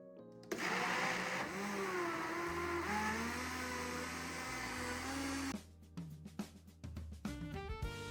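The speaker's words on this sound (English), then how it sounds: "Now we're going to blend this." A countertop blender roars at full speed through watermelon smoothie ingredients, a loud steady whirring drone for several seconds that shifts pitch as the load changes, then cuts off into clattering and knocks.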